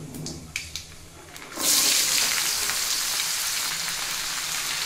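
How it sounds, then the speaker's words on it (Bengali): Vegetables dropped into a pan of frying spices set off a sudden loud burst of sizzling that settles into a steady, close hiss, after a few light clatters of handling before the drop; no voices. "সব কিছু যখন ভেজে নেওয়া হয়ে গেল, এখন আমি এখানে এই সবজিগুলো দিয়ে দেব।"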